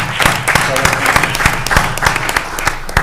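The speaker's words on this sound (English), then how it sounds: "give his beautiful bride a nice round of applause" An audience applauds for a bride at a township committee meeting, with brisk, fairly loud clapping that runs steadily for a few seconds, the individual claps sharp and close.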